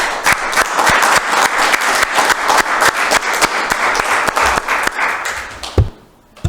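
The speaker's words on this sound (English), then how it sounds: "So I think a round of applause for our police department." A city council meeting room breaks into dense, sustained applause for the police department, many hands clapping close and loud for about six seconds before stopping abruptly.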